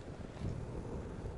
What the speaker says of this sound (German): da war jetzt ein gescheite Böe drin